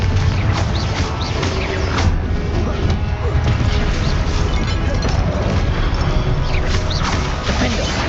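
Confringo fire spell blasts boom in Hogwarts Legacy combat, dense rumbling impacts and crashes layered over continuous game effects and music, loud and unbroken throughout.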